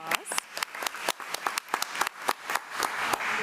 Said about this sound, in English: Let's give Bristol's mom a round of applause